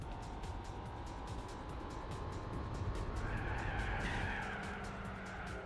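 Cars racing in Gran Turismo 4, a Mustang running with Corvettes and Vipers, engines droning steadily with a rising whine and brief tire noise near the end, continuous and fairly close.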